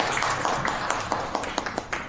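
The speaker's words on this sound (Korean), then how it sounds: "박수로 맞아 주시기 바랍니다" Scattered clapping from a small audience, irregular claps growing denser toward the end, fairly close and moderately loud.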